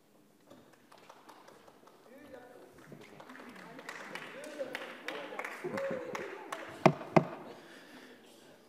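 Applause rises in a parliamentary chamber for a justice bill vote explanation, starting faint and swelling into a dense, steady clatter of many hands, with a few sharp louder claps near the end and a murmur of voices beneath.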